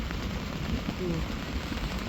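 Heavy rain falls in a village, a continuous, dense hiss of water striking surfaces that holds steady and fairly loud for the whole short stretch with no pauses.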